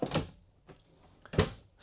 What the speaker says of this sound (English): It's like a hidden little drawer.